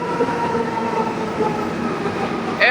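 A Manila MRT metro train rolls along, heard from inside the car as a steady rumbling ride with humming motor tones and faint wheel noise, plus a brief sharper rattle at the end.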